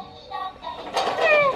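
A voices a short, rising and falling meow, imitating a cat up close at conversational loudness.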